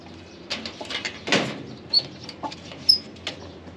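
Aseel chickens cluck softly in short bursts close by on a farm, with a few brief sharp chirps and rustling in between.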